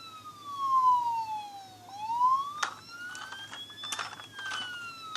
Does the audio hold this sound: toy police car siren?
yes